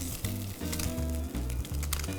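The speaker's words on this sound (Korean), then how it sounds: "표면을 바싹 익혀보겠습니다" Tulip canned ham frying in a pan on high heat, giving a continuous, crackling sizzle up close with a low melodic tone running steadily underneath.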